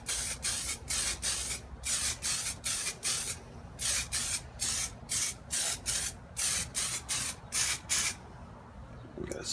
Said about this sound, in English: So we're going to go ahead and give it a couple clear coats